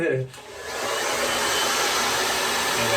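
Hair dryer blowing on a non-surgical hair replacement system, switching on after a brief pause and then a loud, steady close-up whoosh that holds for the rest of the clip.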